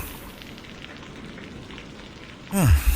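Rain falls on waterlogged Kolkata streets in a horror audio drama as a steady, moderate wash of patter. Near the end a loud, sudden descending sweep cuts in.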